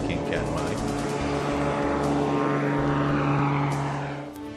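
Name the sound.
King Katmai propeller airplane flying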